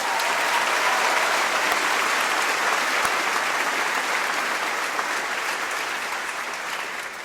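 Sustained applause from a college commencement crowd honoring an Army veteran, a broad, even wash of many hands clapping that holds steady and eases slightly toward the end.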